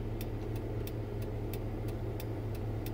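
Truck engine running steadily at idle, a constant low hum with a faint regular ticking over it, no talk.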